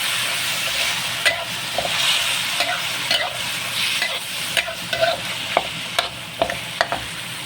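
Fish pieces frying in a pan of tomato sauce for a Filipino shark apritada, a steady sizzle with intermittent sharp pops and stirring clatters that grow more frequent toward the end.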